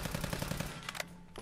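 Service rifle from Fallout: New Vegas firing inside Fallout 4: a rapid close burst of about eight sharp shots, then a short pause and a few more scattered reports with a lingering tail.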